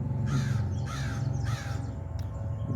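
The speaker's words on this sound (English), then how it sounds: "whatever you were thinking when that crow just called" A crow calls three times in a row outdoors, loud and close, each caw a harsh drawn-out note, followed by a faint fourth sound.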